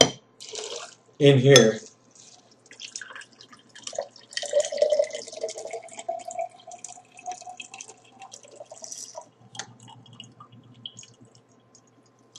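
Liquid, oil or water, is poured into a container, producing a trickling, dripping splash with a few clinks, interspersed with a person talking nearby.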